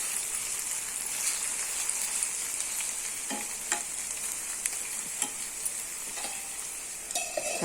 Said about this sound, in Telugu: ఒకసారి కలుపుకోవాలి మగ్గినవన్నీ